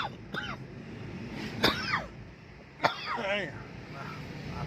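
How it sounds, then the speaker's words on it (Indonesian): Two short, sharp coughs stand out, a few seconds apart, close to the listener, over a steady low rumble from inside a moving car. "agak sedikit batuk"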